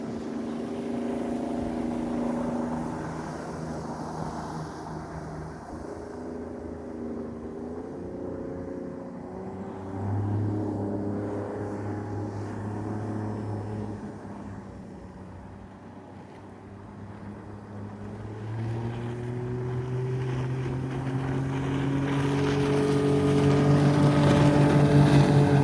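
A Gheenoe Super 18 boat runs at speed on the water, its outboard engine droning with shifting pitch alongside wind noise on the microphone, growing louder toward the end.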